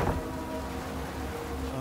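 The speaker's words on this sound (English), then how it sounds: "Oh, raining." Steady rainfall in the Twin Soul horror game, a dense even hiss with a low rumbling undertone, moderately loud and continuous throughout.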